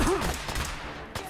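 A short, faint burst of rapid gunfire in the video game Fallout 4, a quick volley lasting about a second with a brief sharp shot near the end.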